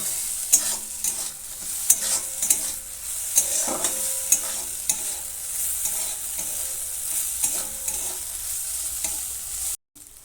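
Ginger paste sizzles and fries steadily in a pan while a utensil stirs and scrapes with occasional sharp clinks.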